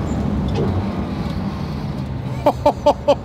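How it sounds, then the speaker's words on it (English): McLaren 720S supercar downshifting automatically without paddles: four quick, evenly spaced rev blips over a steady engine and road rumble inside the moving car. "listen to the downshifts, like no paddles, this is the automatic downshift"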